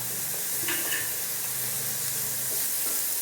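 Sliced tomato sautés in a pan for a fish roast, giving a continuous soft sizzle and hiss with a few light stirring scrapes over a short stretch.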